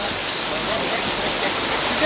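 Heavy rain pouring down in a drought-stricken region, a dense, steady wash of loud noise with no breaks throughout.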